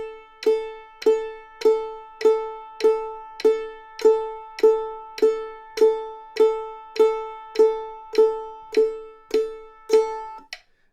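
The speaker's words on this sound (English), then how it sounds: "At this tempo, downstrokes work really well." Guitar downstrokes played one per metronome click, a steady even pulse of about fourteen bright plucked strums, each ringing briefly before the next, clean and alone with no talking.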